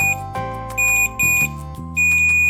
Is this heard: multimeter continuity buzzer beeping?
yes